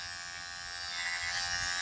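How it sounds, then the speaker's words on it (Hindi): An electric beard trimmer fitted with a number 2 comb buzzes steadily and close up as it cuts a long beard, with a constant motor whine and a slight rise in loudness partway through. "अब 2 नंबर का हमने ट्रिमर पे कंघा लगा के 2 नंबर पूरी बियर्ड कर ली"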